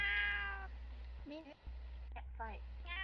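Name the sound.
cat meowing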